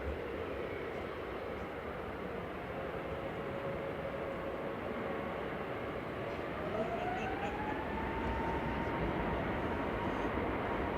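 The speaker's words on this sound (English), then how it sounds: "GV lib heading off to Orlando with flight 75." An aircraft departing a Manchester airport for Orlando produces a steady, distant roar with a slowly rising engine whine that builds gently through the passage, with no speech.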